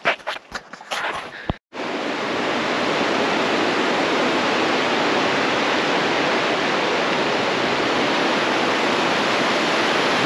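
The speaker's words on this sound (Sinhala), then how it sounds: "This is the cold ice river from British Columbia." A cold glacial river in British Columbia rushes past in a loud, steady roar of flowing water that fills everything after a few brief knocks at the start.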